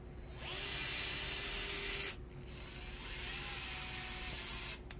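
Power driver running a screw into the chassis of a Traxxas TRX4m RC truck, a steady whine in two bursts with a brief pause between, moderately quiet and close.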